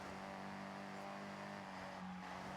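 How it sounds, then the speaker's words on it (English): A K-Truck in the video game Forza Horizon 6 drives fast, its small engine holding a steady, droning hum throughout with little change in pitch. "The K-Truck is going fast."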